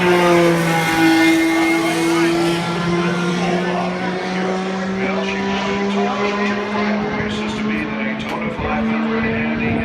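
An IndyCar race car at Indianapolis screams past on a qualifying lap, its high-revving engine whining loud, with a pitch that slowly falls as it passes. A commentator talks over the engine noise.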